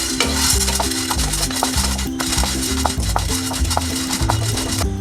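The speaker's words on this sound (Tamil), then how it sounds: "இப்போது ஸ்டவ்வில் ஒரு பேன் வச்சுட்டு அதில் பொட்டுக்கடலையை போட்டு வறுத்துக்கலாம்" Roasted gram (pottukadalai) is dry-roasted in a pan on a stove, with continuous close scraping and stirring and a rattling, sizzling texture throughout.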